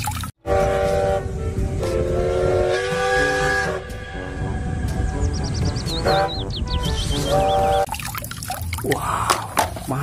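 Toy Thomas train whistle-like tooting and chugging music, a loud, busy electronic toy sound with melodic beeps and a chirpy warbling toward the end.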